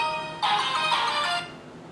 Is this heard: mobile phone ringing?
yes